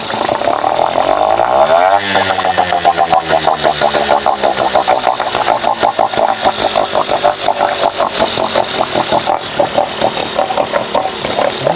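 A Mercury 3.3 HP outboard boat motor given a little throttle, its loud close buzzing note climbing in pitch after about two seconds and then holding a fast, steady revving drone with no speech.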